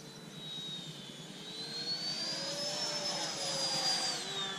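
Freewing F-22 Raptor RC jet's electric ducted fan run at full throttle, a loud, steady high-pitched whine with a rising tone that swells and then eases, heard close and alone.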